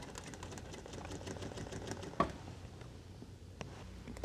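A sewing machine runs at low volume, stitching through a dress along a drawn line, with a soft continuous mechanical patter and a single sharper click partway through, no talking.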